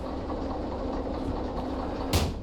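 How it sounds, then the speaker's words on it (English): A train rolling along in the Derail Valley simulation, a steady low rumble and engine drone with a brief bright hiss burst near the end, close and continuous without talk. "We're going to ride this train around."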